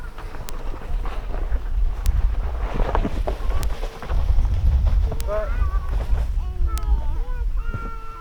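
Wind buffeting a microphone outdoors on a farm, low rumbling gusts that swell and fade, with faint chirps and scattered background sounds.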